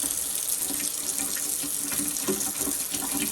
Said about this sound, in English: So the water's coming out pretty good.